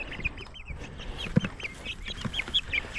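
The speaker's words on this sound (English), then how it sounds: "Chicken in a bucket." Young Silkie chickens, nearly three months old, cluck and peep softly from inside a bucket, with repeated short chirps and one low thump partway through.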